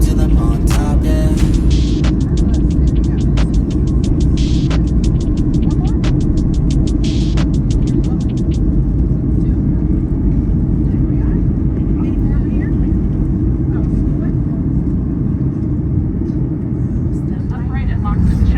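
Steady, loud, low rumbling roar inside an airliner cabin before landing on a flight to Jamaica. The drone stays even throughout, with faint clicks and rattles over it early on.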